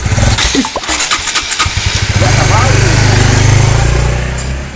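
A new motorcycle engine starts up close by and settles into a loud, steady idling rumble after a brief rev, with people talking briefly over it at the start.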